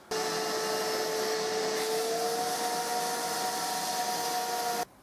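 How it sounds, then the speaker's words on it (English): A vacuum cleaner nozzle runs along a crack in a lath and plaster ceiling, giving a steady whining roar with a faint tonal hum, close and continuous before it cuts off abruptly. "Taking vacuum cleaner nozzle, I'm just going to vacuum along that crack, remove any remaining dust."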